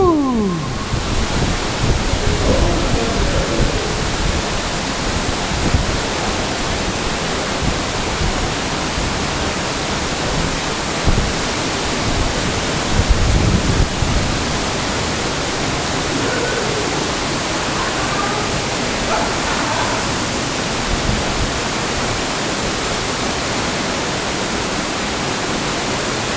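A hidden waterfall close up, a loud continuous roar of rushing water filling the whole clip, with occasional faint voices under it.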